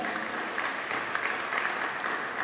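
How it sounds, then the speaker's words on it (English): A steady round of clapping from a coaches' clinic audience, thanking players after a zone defense demonstration, moderately distant and even throughout. "I want to give them a round of applause"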